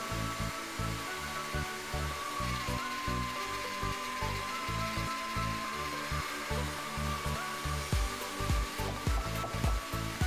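Barley flour dough for linguine fed through a pasta machine at roller setting zero, a close steady motorized whir with rhythmic low thumping pulses as the rollers turn.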